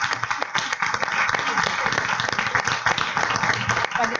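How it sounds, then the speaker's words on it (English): An audience at a school board meeting applauds, with dense, steady clapping from many people in a hall and a few voices mixed in. "you all give them a round of applause as well"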